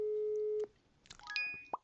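A telephone busy signal in the video game Office Simulator, a steady electronic tone that cuts off after about half a second, followed by a few short beeps and tones.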